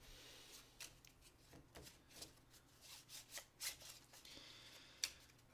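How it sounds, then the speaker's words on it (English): A deck of cards is shuffled for the Mage Knight board game, faint riffling and sliding bursts at a tabletop, quiet and close, with a few sharper snaps. "Let's shuffle this up."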